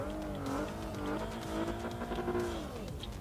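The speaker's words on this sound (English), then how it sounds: "Let's just rev this thing a little bit" A car engine in Forza Horizon 2, modelled on something like a Ford Fusion, revs steadily and loudly, its pitch climbing and falling in sweeping waves with no talk over it.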